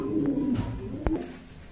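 Pigeons coo at a pigeon market where pairs of Black Lakkha and big Red Checker birds are on sale, a low rolling coo running steadily and close, with a brief sharper sound near the middle.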